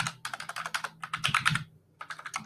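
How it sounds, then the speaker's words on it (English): Fast typing on a computer keyboard: a dense, quick run of clicky keystrokes with a brief pause, close and fairly quiet. "I see you're typing those all out."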